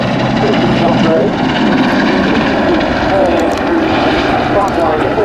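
A Royal Navy Merlin HM2 helicopter flying at an air display at RAF Waddington: a loud, continuous rotor and turbine roar, with an announcer talking over it.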